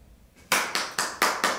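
Hands clapping in a quick, steady rhythm: five or six sharp, close claps about a quarter second apart, with no talking over them.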